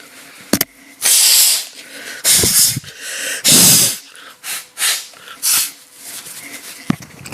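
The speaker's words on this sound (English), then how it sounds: "Wait, I need to blow my nose again." Repeated forceful nose blows by someone with allergies, several loud, close, hissing bursts of air through the nose with brief pauses between them and no talking.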